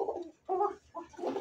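Fancy pigeons, including Lahori and Mundian types kept in a seller's loft, coo in the evening, giving several soft, throaty bursts in an uneven rhythm at close range with no one talking.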